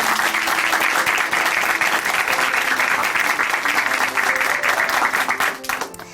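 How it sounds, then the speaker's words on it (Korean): A church congregation at Chuncheon Hanmaum Church applauds after a testimony, with loud, dense, sustained clapping from many hands that holds steady before tapering off at the end. "다시 한번 귀한 간증 전해주신 김영화 형제님께 큰 박수 보내드리겠습니다"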